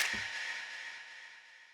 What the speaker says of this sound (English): a reverb signal with delay afterwards